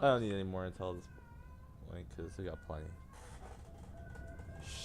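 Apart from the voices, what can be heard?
cat meowing in the background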